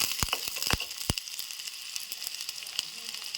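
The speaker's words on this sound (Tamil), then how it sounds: "வெங்காயம் போட்டு வறுத்துக்கலாம்." Onions frying in a pan for spleen curry, a soft close sizzle with scattered crackles and pops over a steady hiss, quiet and without talk.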